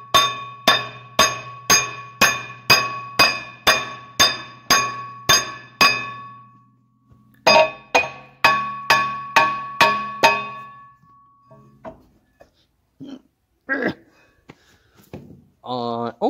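A hammer strikes repeatedly on the rear brake of a Land Rover Discovery D2 TD5, sharp ringing metallic clanks in steady rapid series, a pause, then another run before a few softer knocks and brief voice sounds.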